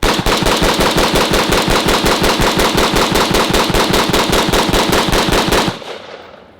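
An AR-15 rifle fires budget steel-cased ammunition in a loud, rapid, unbroken string of shots lasting several seconds, then stops abruptly and leaves a fading echo.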